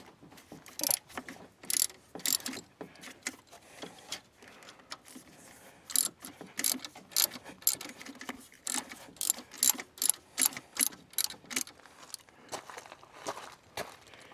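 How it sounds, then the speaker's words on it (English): A ratchet with a 14 mm socket loosens an alternator bolt on a 2000 Toyota Avalon, giving repeated bursts of close, crisp clicking in an uneven rhythm with short pauses between strokes. "Now I'm going to take my 14 millimeter socket and loosen this."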